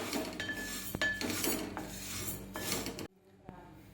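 Dry mung beans roasting in a pan without oil make a close scraping and rattling as they are stirred, with a few sharp metallic clinks before it cuts to near silence.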